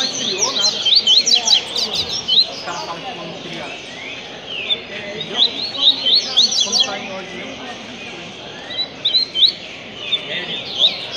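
Caged coleiros, double-collared seedeaters, sing loud, rapid bursts of high chirping trills in repeated phrases with short pauses, close by over a faint background murmur.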